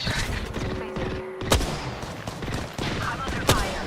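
Gunfire during an Apex Legends ranked match: rapid bursts of shots with a couple of sharp louder cracks, mixed with game effects and background noise, close and loud.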